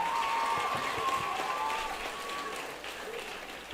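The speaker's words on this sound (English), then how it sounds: "Please clap well." Audience applause for a keynote speaker at a teen girl and child conference, a steady, moderately loud clapping wash with a faint sustained tone over it, fading slightly toward the end.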